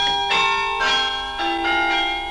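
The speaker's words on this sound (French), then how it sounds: "Le carillon du Louvre." The Louvre carillon, 38 bells weighing 10 tonnes together, rings out close and loud, with several overlapping strikes leaving long, sustained metallic tones that blend into one another.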